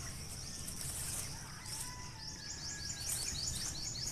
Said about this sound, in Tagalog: mayroon pa po kayong naririnig na ibon